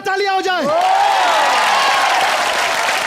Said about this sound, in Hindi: घायल वंस अगेन के लिए जोरदार तालियां हो जाए